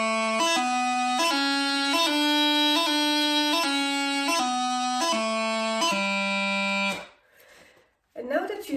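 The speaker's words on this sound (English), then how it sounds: "So starting from low G and going up and down the scale." Bagpipes play a clean run of grace-note figures stepping up and then back down the scale from low G, steady and loud for about seven seconds before breaking off into a brief noisy tail.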